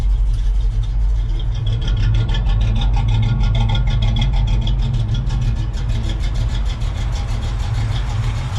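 A car engine runs loud and close, holding a steady, even drone as the car pulls away, with no speech over it.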